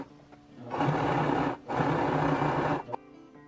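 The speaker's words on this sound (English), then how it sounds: "you can sew all the way around the edge" A sewing machine stitches along the edge of a fabric notebook cover with a pocket, running in two steady, loud bursts of about a second each, with a brief pause between them.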